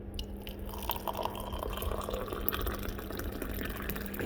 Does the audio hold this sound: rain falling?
no